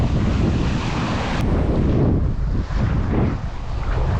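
Strong wind and crashing waves roar continuously on a rocky headland in Indonesia, loud and close, with heavy wind buffeting the microphone and no talk.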